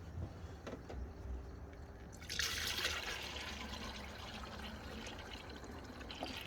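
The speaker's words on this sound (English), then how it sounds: "next we're gonna go ahead and add our coolant. I already got this diluted." Diluted coolant poured into the cooling system of a 2014 Dodge Challenger 5.7L Hemi, a faint steady trickle and gurgle of liquid that grows slightly fuller after a couple of seconds, heard alone.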